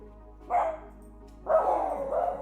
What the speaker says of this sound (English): Puppies, can we please stop yelling today?